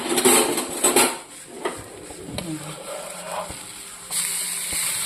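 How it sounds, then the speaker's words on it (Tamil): A mini uthappam is flipped in an oiled pan, making a few sharp metallic clanks and scrapes of utensil on pan, followed by a faint, steady sizzle. "கொஞ்சம் ஆயில் போட்டு நம்ம பெரட்டி விட்டோம்னா நல்லா சூப்பராக இருக்கும்"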